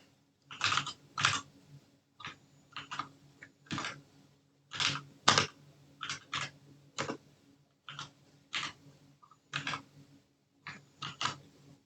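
Typing on a computer keyboard while coding in Python, with close, crisp key clicks in short irregular bursts separated by brief pauses, and no one speaking.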